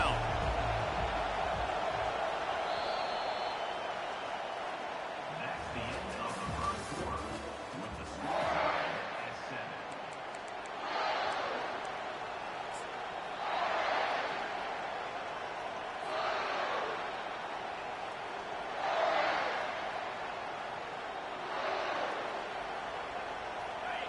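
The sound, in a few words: stadium crowd cheering for the defense on third down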